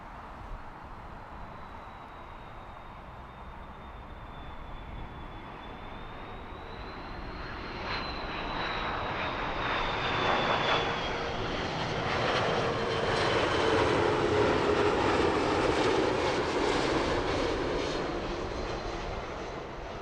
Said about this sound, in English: Bouncy landing by the Iberian 330